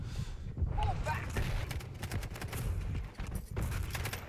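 Shotgun fire in Quake Champions, several loud sharp blasts in quick succession over dense game noise, with a voice speaking briefly.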